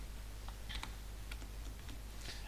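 Keys clack on a computer keyboard in short, irregular bursts of typing, soft and close against a low steady hum, with no voices.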